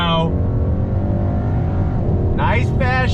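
A 2021 Hyundai Sonata N Line engine hums at a slow roll, then revs up sharply with rising pitch as it accelerates, loud and close.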